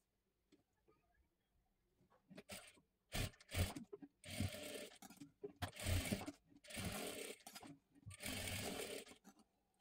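A sewing machine stitches a blouse in several close bursts of rapid mechanical whirring and ticking, separated by short pauses, fairly quiet overall with no talking.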